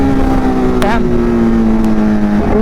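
Kawasaki Ninja H2 motorcycle engine running while riding, a steady loud engine drone with a shifting pitch and a brief rising rev, heard close with wind and road noise.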